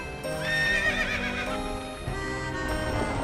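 A horse neighs in a long, bright whinny while hooves clip-clop beneath it, pulling a caravan cart in the video game Labyrinth of Refrain; the neigh is close and loud, followed by steady hoofbeats.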